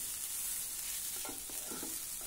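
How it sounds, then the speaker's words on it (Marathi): Grated fresh coconut and poppy seeds are stir-fried briefly in a pan, a soft, low hiss with a few faint scraping stirs near the end, no talking. "अर्धा ते 1 मिनिटासाठी हा नारळ आणि खसखस आपण थोडं परतून घेऊ।"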